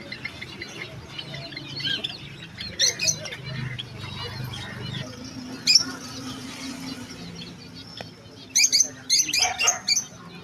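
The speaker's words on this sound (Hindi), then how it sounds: "ये सबसे खूबसूरत चीज़ है कबूतर।" Small birds chirp in a bird shop that also keeps pigeons, with sparse high tweets scattered over a low indoor murmur and a brisk burst of chirping toward the end.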